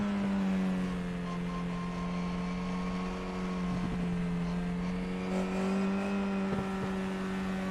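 An FIA F4 race car in the iRacing sim accelerates in a sustained, loud engine drone, its pitch holding steady and bending slightly as it revs through a stretch of track, with no voices.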